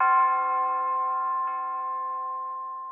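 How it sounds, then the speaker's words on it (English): A bright, resonant church bell sample rings out and sustains with a long, slowly fading decay, rich in steady harmonic overtones. "check out this bell sound that I found called church bell"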